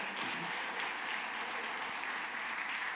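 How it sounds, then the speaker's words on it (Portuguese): A church congregation claps during a prophetic worship service, a dense, even roar of many hands applauding loudly and continuously throughout, with no voices standing out. "Se você crê, dê um aplauso bem forte ao Messias."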